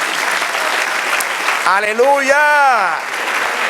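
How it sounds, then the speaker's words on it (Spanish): A church congregation claps steadily in applause, a continuous wash of hands under a voice speaking and calling out in the middle. "Denle otro aplauso al Señor."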